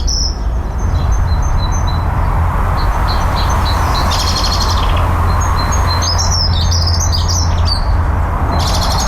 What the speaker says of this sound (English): there's a dunnock singing, the blackbird as well, and the great tit